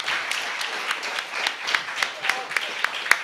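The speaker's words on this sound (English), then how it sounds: "I believe that applause is for our candidates" Audience applause at a 2022 League of Women Voters state candidate debate in Redding, a steady wash of clapping with a few sharper nearby claps standing out, fairly loud throughout.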